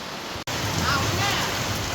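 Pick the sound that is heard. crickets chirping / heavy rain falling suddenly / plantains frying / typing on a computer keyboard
heavy rain falling suddenly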